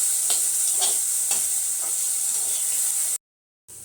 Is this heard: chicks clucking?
no